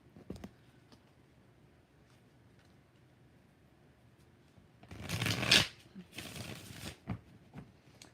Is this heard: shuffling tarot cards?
yes